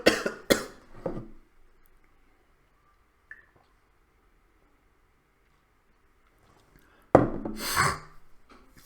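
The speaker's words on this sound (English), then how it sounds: "I'm gonna cough while I consider this." A person coughs several times up close at the start, then near silence with a faint click, before another burst of harsh coughing and throat noise near the end.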